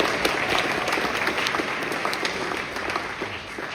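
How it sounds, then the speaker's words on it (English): Loud, dense applause fills a convention hall as a fan audience claps continuously at a Red Dwarf cast panel, a steady close wash of many hands with no talking. "So give yourselves a round of applause."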